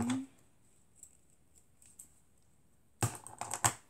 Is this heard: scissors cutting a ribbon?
yes